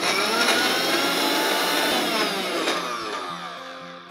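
A kitchen mixer grinds dates and nuts into a sticky paste, a loud continuous whirring roar that starts full and gradually slows and fades toward the end, with no talking.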